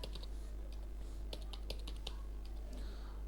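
Names are typed into Excel on a computer keyboard, a quiet, uneven run of close key clicks over a low steady hum.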